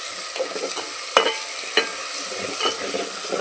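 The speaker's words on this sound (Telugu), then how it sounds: "మనకి అల్లం వెల్లుల్లి పేస్ట్ కూడా ఒక 2 నిమిషాలు మగ్గనిద్దామండి, పచ్చివాసన పోయేదాకా" Ginger garlic paste frying in a pan and being stirred, a steady bright sizzle throughout with scraping clicks from the spoon here and there, close and fairly loud, with no talking.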